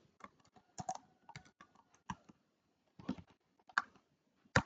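Typing a search into Google Maps on a computer keyboard: scattered clusters of light, crisp keystrokes with short pauses between them, close and quiet, no speech.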